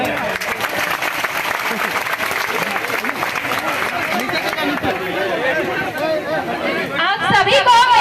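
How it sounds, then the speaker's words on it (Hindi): Applause and cheering from a large crowd at a Jharkhand political rally, a dense, continuous wash of clapping and chatter throughout that swells louder toward the end. "आप लगा दे एक बार जोरदार ताली है।"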